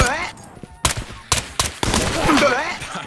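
Gunfire from an MPX in the VR shooter Ghosts of Tabor: several loud, sharp shots ring out close by in quick bursts, with echoing tails and some clattering between them.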